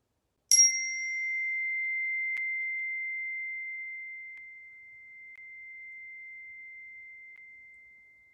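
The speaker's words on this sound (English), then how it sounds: "Hit the chime. Focus on the sound. Nothing else but the chime." A meditation chime is struck once with a bright metallic attack, then rings out as a long, pure sustained tone that slowly fades over several seconds in a quiet room, with a faint tap partway through.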